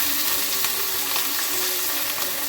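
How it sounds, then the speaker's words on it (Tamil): Green chillies, coriander, mint and a small piece of tamarind sauté lightly in a little oil in a kadai, giving a steady, close sizzling hiss throughout with faint stirring. "கடாயில் கொஞ்சமாக ஆயில் ஆட் பண்ணிவிட்டு 2 பச்சை மிளகாய், கொஞ்சமாக கொத்தமல்லி, கொஞ்சமாக புதினா, சின்ன சைஸ் புளி ஆட் பண்ணிவிட்டு லைட்டாக சாட்டே பண்ணிக்கலாம்"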